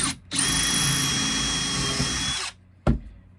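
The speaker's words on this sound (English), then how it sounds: "And we'll drill." A power drill bores into wood at a 1984 Chris-Craft Catalina 381 boat dinette fitting, whining loud and steady for about two seconds, then stopping, followed by one short sharp burst.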